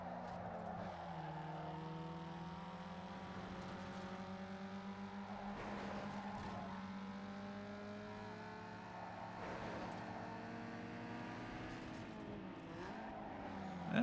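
A Mazda MX-5 engine drones in a racing game, a steady tone that climbs in pitch through each gear and then drops as it shifts, with several upshifts one after another and no talk over it.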